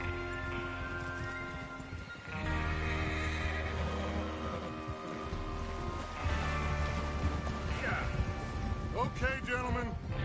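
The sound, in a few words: horses neighing, from the video game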